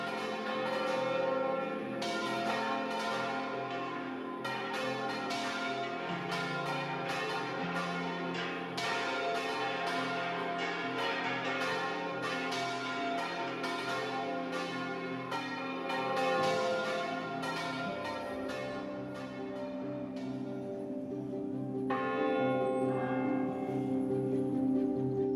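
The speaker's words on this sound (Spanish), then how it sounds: "los toques de misa se tocan todas las campanas" Burgos Cathedral's bells ringing together for a Sunday mass peal, a dense, continuous clangor of overlapping strikes and ringing tones that sustains loudly for the whole stretch, with no talk.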